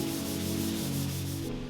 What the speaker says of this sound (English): the final sanding is done with hand sanding blocks and 220 grit sandpaper